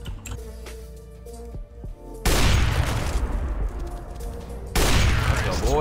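Bursts of loud gunfire in a CS:GO match, with a few sharp shots early and then two heavy, sustained volleys of rapid firing, close up and filling the clip.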